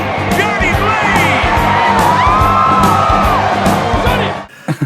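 A big stadium crowd cheers and whoops loudly for a stunt rider in Ghost Rider, a sustained roar of yells and shouts with rhythmic thumping underneath, cutting off abruptly near the end.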